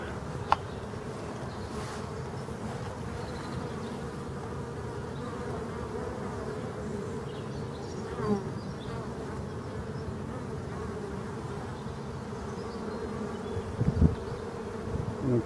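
A steady swarm of bees hums and buzzes continuously around a hive, close and dense, with a few brief knocks and rustles near the end.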